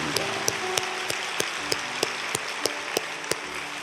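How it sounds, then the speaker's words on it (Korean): A church congregation at a Sunday service claps to welcome newcomers, with a run of sharp, evenly spaced claps standing out above a soft, steady hiss of room noise. "박수로 뜨겁게 맞겠습니다"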